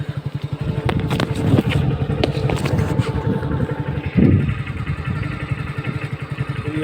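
A motorcycle rides through a village, its engine thrumming steadily and close throughout with slight rises and dips in throttle.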